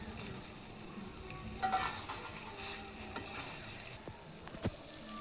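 Potatoes sautéing in a pan on a traditional clay stove, a soft low sizzle with occasional scraping stirs and light utensil knocks, quiet and close.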